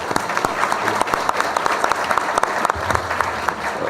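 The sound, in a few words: audience applause for the panel speakers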